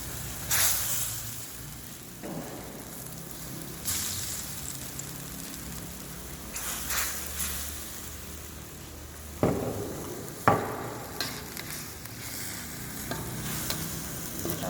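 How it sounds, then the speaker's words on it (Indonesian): Three pieces of snapper cook in boiling broth in a pot, giving a steady bubbling sizzle with occasional louder splashes and clatters of stirring. "Ini sudah mendidih ya ibu, kita masukkan 3 potong ikan kakapnya."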